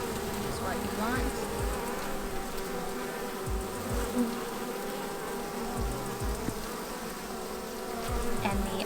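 Honeybees in a recently split hive, with a new queen cage set among the brood, hum in a dense, continuous buzz at close range, with occasional individual bees droning past.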